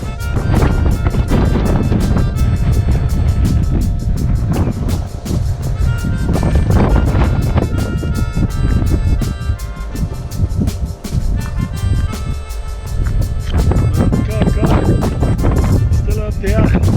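Strong, steady wind in Wellington, New Zealand, buffeting the microphone with loud low rumbling gusts throughout.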